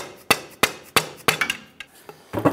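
A Dodge Ram 1500 front axle is tapped into the hub with a pry bar, producing sharp metallic knocks, four evenly spaced strikes followed by lighter, quicker taps, close and loud.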